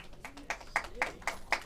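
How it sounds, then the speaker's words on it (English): A few sharp, isolated hand claps ring out at a public meeting on school vaccine requirements, spaced irregularly and moderately faint in a quiet hall. "Please don't clap."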